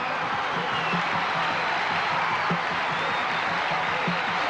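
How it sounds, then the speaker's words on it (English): A crowd gives a rousing ovation after a martial arts demonstration, with steady, dense applause and cheering filling the space evenly throughout. "The crowd, in appreciation for the marvelous show he's put on, is giving him a rousing ovation"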